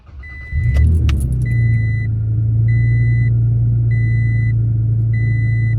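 A Toyota Tacoma pickup truck engine with a newly installed intake cranks and catches, then settles into a steady low idle rumble, with faint repeating beeps in the background.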